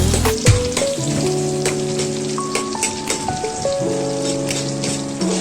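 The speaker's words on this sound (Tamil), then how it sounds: "கடுகு போடுங்க. ஆனியன் போட்டுக்கோங்க." Mustard seeds and chopped onion frying in hot oil, a dense crackling sizzle like rain on a surface, running steadily beneath a melodic music track.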